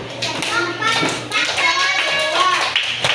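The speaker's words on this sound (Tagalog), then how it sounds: "Kapag tamang gawain, pumalakpak kayo ng 2 beses" A group of schoolchildren in a classroom good-conduct demonstration claps their hands, with several short taps amid ongoing chatter and a voice over a steady background hum.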